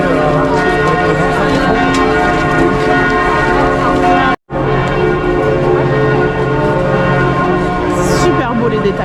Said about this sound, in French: il doit y avoir les cloches.